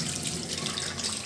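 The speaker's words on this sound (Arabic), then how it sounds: "شويه غسل غير يدي" Tap water runs steadily into a kitchen sink while hands are rinsed partway through preparing traditional Moroccan rfissa; a continuous close splashing hiss with no talk.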